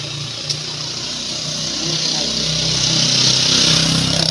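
Motorcycles and motorized tricycles run together on a street during a local campaign outing, their engines making a steady, fairly loud drone that rises slightly toward the end.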